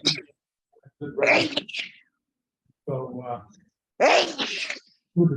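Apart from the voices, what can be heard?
sneeze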